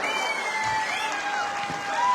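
An audience at an AWPL company event applauds, a steady wash of clapping and crowd noise with a faint whistling tone above it, while someone talks over it.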